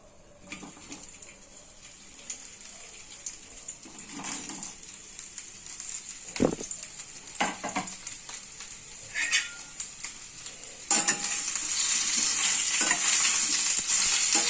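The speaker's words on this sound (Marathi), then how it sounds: "तेल गरम झालं की आपण याच्यात भेंडी सोडून देऊ तेलामध्ये" Okra sizzles and crackles in hot oil in a kadhai, with occasional stirring clatter, the hiss growing louder and steadier toward the end; no talking.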